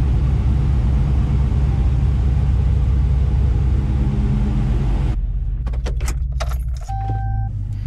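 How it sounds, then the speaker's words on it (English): Two V8 engines totalling 11.7 liters idle together in a garage, making a loud, steady, deep rumble that drops away and leaves a few faint clicks and a thin hum near the end. "Let's just appreciate for the moment, 2 V8s rumbling."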